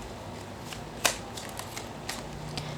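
Tarot cards being shuffled, quiet papery riffles and soft slaps, one sharper snap early on followed by lighter scattered flicks, with no voices.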